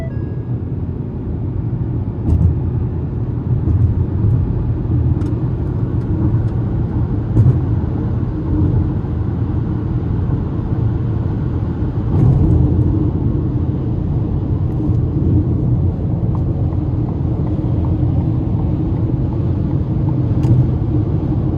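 2026 Ford Maverick Hybrid XL AWD pickup driving, heard from inside the cab as a steady low road and engine rumble that stays constant and fairly loud throughout, with no talking.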